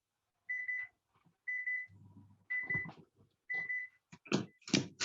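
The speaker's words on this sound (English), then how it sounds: "That's my timer going off." A kitchen oven timer sounds in short bursts of high electronic beeps, four groups spaced roughly a second apart, with clattering and handling noises between and after them in a quiet home kitchen.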